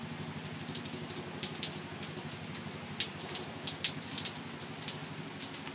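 Steady rain patters on a covered back porch, a dense close-up hiss of drops with scattered louder splats, continuous for the whole stretch with no voices.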